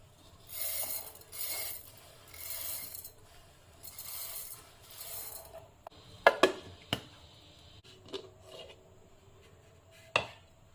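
Roasted flaxseed ground to a coarse powder in a kitchen grinder, with several short bursts of whirring, then scraping and clattering of the jar and lid, moderately loud and close.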